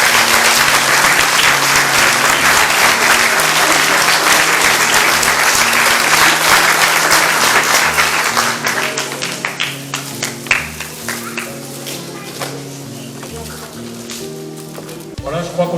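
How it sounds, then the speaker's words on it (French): An audience at a municipal award ceremony for volunteers and athletes breaks into loud, dense applause that holds for several seconds, then thins into scattered, fading claps. "Je vous demande un tonnerre d'applaudissements pour M."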